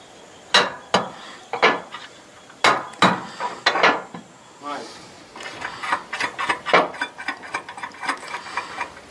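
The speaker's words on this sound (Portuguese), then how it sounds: "Fazendo exatamente o ajuste aqui do parafuso." A bolt is tightened on a rail for solar panels on a roof, giving bursts of sharp metallic ratcheting clicks and taps in irregular clusters, close and fairly loud.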